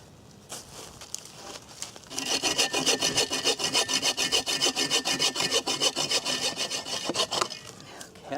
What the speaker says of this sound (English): you want to go out into the woods and do some sawing